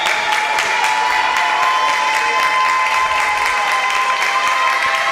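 Crowd cheering and clapping in a gym at a women's varsity volleyball match, steady loud applause with sustained whistle-like cheers, continuous throughout.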